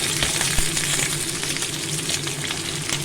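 Potatoes fry in hot oil with black cumin and green chillies, a loud, steady close-up sizzle with crackling spatter and a faint stir or two.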